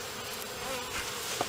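Honey bees buzzing around a hive feeder during syrup feeding, a close, steady insect hum with brief louder passes of individual bees.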